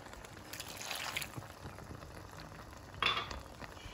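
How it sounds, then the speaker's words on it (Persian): Boiling water is poured into a simmering meatless eggplant stew, giving a soft bubbling and splashing texture with a brief louder burst of liquid near the end. "و همینطور بادمجونامون رو و 2 استکان آب جوش بهش اضافه میکنیم"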